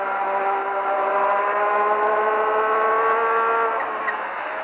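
A Formula 1 car's engine heard onboard at around 150 miles an hour in 4th gear through a right-hander on a classic lap, a loud, steady high-pitched drone holding near constant pitch with a slight dip toward the end.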